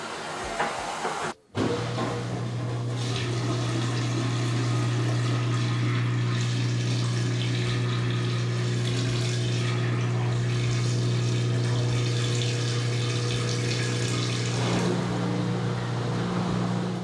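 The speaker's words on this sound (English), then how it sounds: "your washer might activate the drain pump as it thinks there's still water inside" A washing machine's drain pump running steadily, a low constant hum with a strong tonal drone and a faint watery rush on top, close and unbroken for about seventeen seconds apart from one brief dropout near the start.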